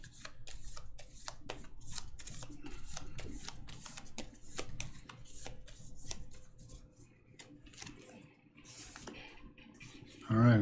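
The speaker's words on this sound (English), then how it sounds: "Red Guard's out of cards, so we're going to have to shuffle up and get rid of one" A deck of board game cards is shuffled for the Gloomhaven: Jaws of the Lion game, giving rapid flicking and riffling clicks in a quick irregular rhythm, close and fairly soft, ending with a brief louder bump.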